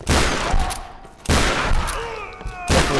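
Rapid bursts of gunfire in the Tomb Raider video game, loud and close, coming in two or three dense volleys separated by brief lulls.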